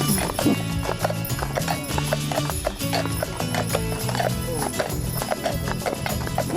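Gray draft horses walk at a driving school stable, hooves clip-clopping in a steady, close rhythm on a hard surface, with a neigh and background voices mixed in.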